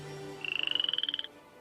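A frog croaks as a sound effect in a children's story: a quick, evenly paced run of about fifteen bright croaking pulses over a quiet background, with no talking.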